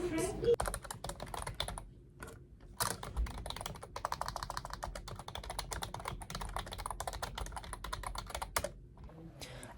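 Notes are typed on a computer keyboard in a clinic office, rapid, close, continuous key clatter with brief pauses between bursts.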